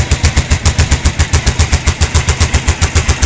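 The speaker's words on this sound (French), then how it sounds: "les pots d'échappement et leur bruit qu'ils font" A Yamaha Drag Star 1100 motorcycle engine rumbles loudly up close with a rapid, regular pulsing beat from the exhaust pipes, steady throughout with no voices.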